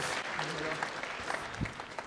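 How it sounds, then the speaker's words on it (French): Audience applauding at a civic New Year's honours ceremony in a hall, steady dense clapping from a crowd throughout, with a voice speaking over it. "Applaudissez-le, il va être content, il adore ça."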